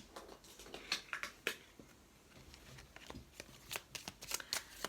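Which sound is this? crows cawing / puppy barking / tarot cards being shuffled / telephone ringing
tarot cards being shuffled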